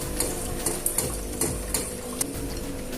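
Pork char siu being stirred in hoisin sauce in a pan: quick, regular clicks and scrapes of a utensil against cookware over a continuous low background hum.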